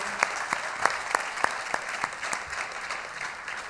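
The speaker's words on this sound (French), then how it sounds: "J'aimerais ça qu'on puisse donner une main d'applaudissement à tous ces gens" A church congregation gives a round of applause during a Sunday baptism service, a soft, even patter of many hands with a few louder claps standing out, somewhat distant.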